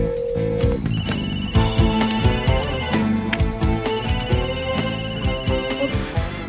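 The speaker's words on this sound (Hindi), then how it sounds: "फोन उठाइए" A phone ringtone plays continuously, a repeating electronic melody that stays loud and steady from start to finish.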